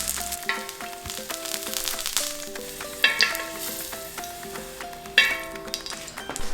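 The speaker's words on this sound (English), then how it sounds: "Brown the garlic, taking care to avoid burning it." Garlic and green onion frying in oil in a pan, a continuous close sizzle with soft crackles and a few louder pops and scraping stirs, no voices.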